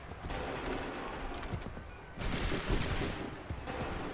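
Musket volleys in Assassin's Creed III, a dense crackle of many shots fired together over a continuous battlefield din, with a heavier burst of fire about halfway through.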